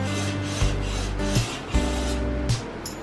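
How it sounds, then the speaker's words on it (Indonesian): A DTG printer runs a print job, with its print head carriage shuttling back and forth in a steady mechanical rhythm. Soft rasping passes alternate with low motor thumps at each change of direction. Close and clear, with no talk. "pengeprintan berjalan dengan normal"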